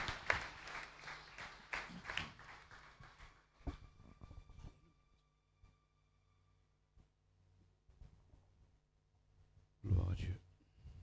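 A church congregation breaks into applause, a dense burst of clapping that fades out, followed by quiet room tone and a brief loud rustle near the end.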